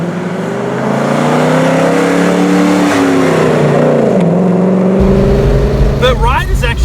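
A Qvale Mangusta sports car with Ford Mustang parts being driven, its engine droning steadily and climbing in pitch as it pulls, loud and close, with a shift near the end.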